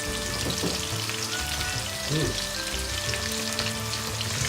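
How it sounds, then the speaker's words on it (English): Bitter gourd (karela) and onions frying well done in a pan, a dense steady crackling sizzle at close range with a few faint stirring knocks underneath, no speech. "This Karela needs to be well done and then it gets really nice burny flavour to it"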